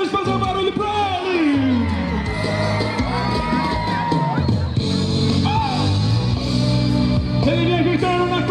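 A rodeo crowd at the 25th Expobom in Bonfinópolis de Minas cheers, whoops and yells loudly and without pause. Shouts rise and fall over a dense wall of crowd noise.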